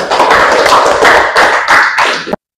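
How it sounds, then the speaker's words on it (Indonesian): A classroom of students claps for a group of classmates who have just finished presenting: a dense, loud burst of close clapping that stops abruptly. "tepuk tangan untuk kelompok 1"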